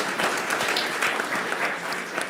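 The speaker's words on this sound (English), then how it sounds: "let's go ahead and give our candidates a round of applause" An audience at a Denver mayoral candidate forum gives a brief round of applause, a dense wash of clapping hands, steady and fairly close throughout.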